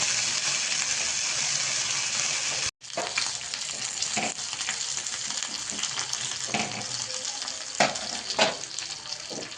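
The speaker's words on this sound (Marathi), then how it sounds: "मिरच्या चांगल्या फ्राय झाल्या" Green chillies frying in hot oil for a dhokla tempering give a loud, steady, hissing sizzle. It cuts out abruptly for a moment, then resumes with crackles and pops.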